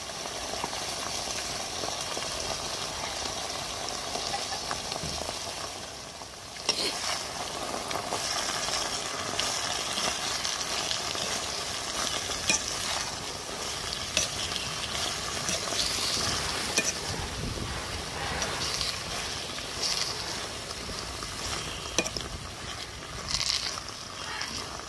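Onions and drumstick leaves sizzle in a pan as pepper rasam is cooked, with a dense, constant frying hiss that stays steady and fairly loud throughout, broken by occasional stirring scrapes.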